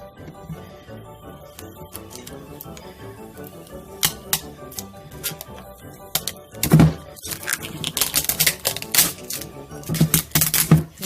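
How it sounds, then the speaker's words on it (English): Stencil vinyl being peeled away from etched glass at a craft table gives a run of crisp crackling snaps and taps, sparse at first and then denser and louder toward the end, close to the mic. "In a certain way, you just want to go ahead and peel it off."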